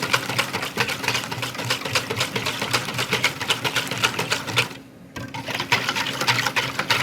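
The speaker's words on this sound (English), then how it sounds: "I whisk this pretty good till we get this nice pale color" A whisk is worked rapidly by hand through wet cornbread ingredients in a bowl, a fast, continuous metallic rattle with a brief pause partway through, close and fairly loud.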